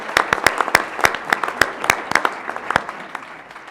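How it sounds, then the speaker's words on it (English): An audience at a climate change symposium applauding: a steady stream of crisp, overlapping claps, fairly close and moderately loud, thinning out toward the end. "So we can give him a round of applause."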